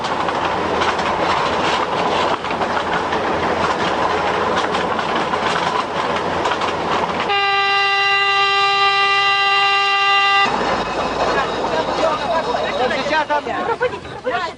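Train rolling along sun-heated rails, a loud continuous rumble with rhythmic wheel clatter heard from inside, interrupted midway by a few seconds of sustained high-pitched tonal squeal, with a voice speaking over the noise.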